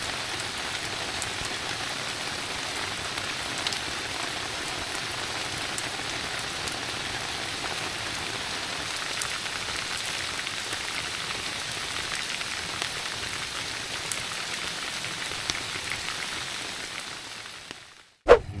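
Steady rain falls at a campsite in Bataan, a dense, even patter on surfaces that continues unbroken for a long stretch before stopping abruptly with a short knock at the end.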